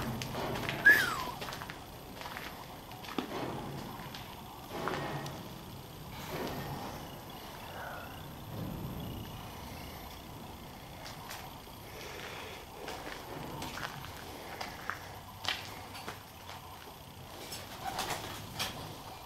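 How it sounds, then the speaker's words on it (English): Pigeons cooing softly inside an abandoned radar base, low intermittent coos scattered through a hollow, echoing room alongside faint footsteps and shuffling, with no voices. "Those are pigeons."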